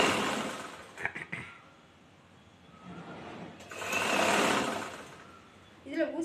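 A sewing machine stitches a chudithar in bursts: short runs near the start, a longer steady run in the middle and a brief burst at the end, with quieter handling in between.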